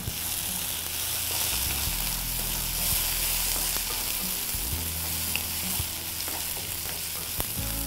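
Onion and tomato sautéing for mushroom pilau in a hot pan, giving a steady, loud frying sizzle throughout with occasional stirring scrapes and clicks, and no voices.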